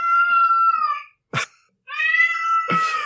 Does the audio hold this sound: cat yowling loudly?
yes